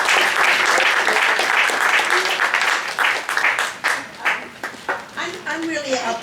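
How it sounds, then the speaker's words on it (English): A luncheon crowd breaks into a burst of applause, dense and loud at first, then thinning into scattered individual claps that trail off toward the end. "Give her a big round of applause."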